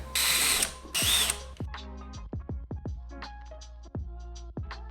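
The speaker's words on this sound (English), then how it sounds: "And I'm just giving them a good old pre-drill." Two loud bursts of a power drill whirring as it pre-drills holes, then a string of clicks, clunks and ratcheting sounds from tools being handled nearby.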